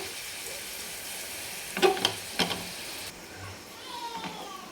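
Garlic frying golden in oil for a tadka for dal palak, a low steady sizzle with a few sharp stirring clatters midway, then a quieter hiss with light scrapes, close and moderately soft.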